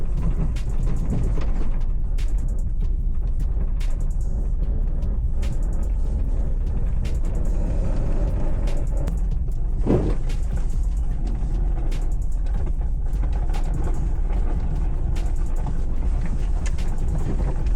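BMW E46 converted for off-road driving through mud: a constant low engine rumble with heavy wind buffeting on the microphone, scattered knocks and clunks from the car bouncing through ruts.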